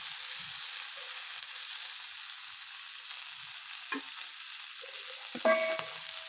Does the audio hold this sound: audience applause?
no